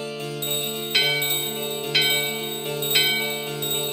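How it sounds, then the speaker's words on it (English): A shop bell rings three times at about one-second intervals in the video game Final Fantasy IX, each strike bright and sustained over a steady musical background. "this store, ring the bell."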